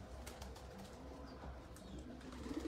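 Racing pigeons in a loft, heard faintly: soft cooing and light rustling stir quietly in the background, with a short run of coos near the end.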